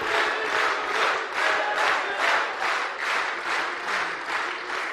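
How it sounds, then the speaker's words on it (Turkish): Applause from an audience at a political rally, dense clapping with a rhythmic pulse of swells about every half second, sustained and loud throughout with no voices standing out. "Senden sonra alkışlıyorlar."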